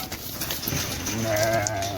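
Sheep bleating in a Saudi village, a single short bleat close by against quiet outdoor ambience, lasting under two seconds.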